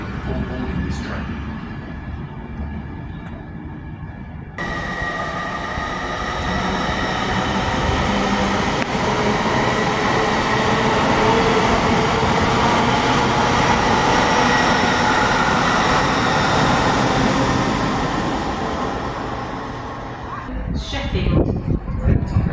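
A two-coach train at Doncaster station rumbles loudly. The roar swells and holds for a long stretch, then eases off, with a brief metallic squeal near the end.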